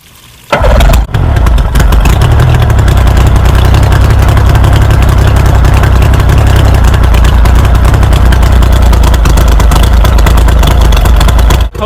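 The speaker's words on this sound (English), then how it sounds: "Hopefully y'all can hear me over this motor." An old boat's outboard motor starts up and runs loud and close, a steady rumbling drone that holds without letup.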